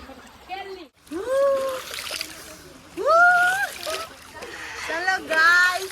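People splash about while bathing in cold water at an outdoor bathing spot near Junagadh, with splashes running under loud, excited shouting and laughter from children and adults throughout.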